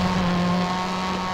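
A car engine in the Forza Horizon 5 racing game holds a steady, loud drone with a strong low hum, close and continuous with no talk over it.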